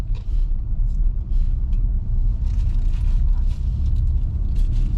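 A car engine rumbles steadily and loudly from inside the vehicle as a learner driver gives a little gas while moving off. The low drone holds with only slight swells and no sharp rev.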